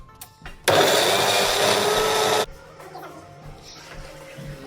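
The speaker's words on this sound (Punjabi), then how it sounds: "ਹੁਣ ਆਪਾਂ ਇਹਨੂੰ ਗ੍ਰਾਈਂਡ ਕਰਦੇ ਆ" A mixer grinder whirs loudly and steadily for about two seconds, blending onion, ginger, tomato and green chili into a paste, then stops and leaves quiet kitchen background.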